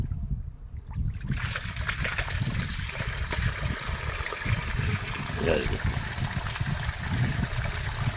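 Water pours steadily into a filled tank at a temple site, a continuous close splashing rush with gurgling texture throughout, and people talk faintly in the background.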